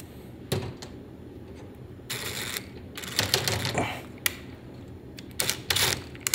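A hex wrench working screws on an Avid HDX card chassis, heard as scattered close mechanical clicks, ratchety scrapes and metallic taps in short bursts with pauses, quiet and without talking.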